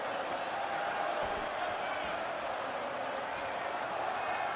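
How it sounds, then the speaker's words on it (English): A UFC arena crowd at Conor McGregor versus Dustin Poirier keeps up a dense, steady roar throughout the fight, with no distinct swells standing out above it. "you hear the crowd react every time they come together"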